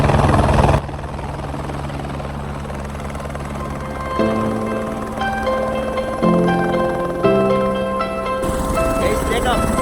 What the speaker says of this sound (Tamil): இப்போ ஒரு ஹெலிகாப்டர் வந்து லேண்டாக வந்துக்கிட்டு இருக்கு